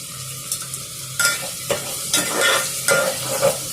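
Mutton curry sizzles in a pan as turmeric and green chilies fry, with a spatula stirring and scraping in short repeated strokes over a steady low crackle.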